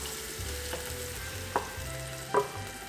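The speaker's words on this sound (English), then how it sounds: "Finally, for the ground beef, you're gonna add a little bit of olive oil, not too much because the ground beef already has a lot of fat." Ground beef frying in a little olive oil, a steady quiet sizzle with a few soft scrapes of stirring, no voices.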